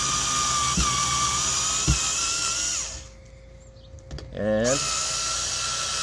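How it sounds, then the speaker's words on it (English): Black & Decker BDCS20 4V cordless screwdriver running in reverse to back screws out of wood: a steady high motor whine, a brief pause, then a rising whir as it spins up again, close and loud. Someone speaks briefly. "we're going to go ahead and put this in reverse, and we're going to try and pull these screws out"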